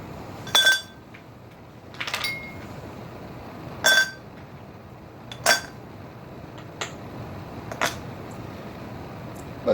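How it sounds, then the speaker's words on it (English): Four ice cubes drop one by one into a copper mug, each landing as a sharp metallic clink with a brief ring, spaced a second or two apart in a quiet room. "So to begin, add 4 ice cubes."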